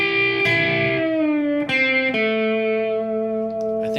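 Electric blues lick on guitar: a few sustained notes bent up and released, an added higher note, and a final held tone with vibrato, played alone at close range.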